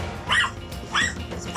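A dog barks at a visitor ringing the doorbell, giving two loud, close yelping barks about half a second apart, then a fainter third bark.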